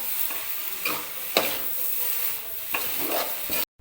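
A spatula stirs egg chow mein in a hot pan, sizzling continuously, with sharp scraping strokes about once or twice a second, close and loud.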